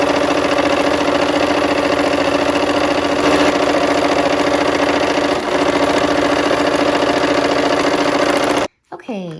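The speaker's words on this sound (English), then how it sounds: "Let's go ahead and sew those together." A sewing machine runs steadily, stitching quilt block sections together with a 1/4 inch seam on bias-cut pieces, a loud continuous mechanical whir that stops abruptly near the end and gives way to a brief rustle.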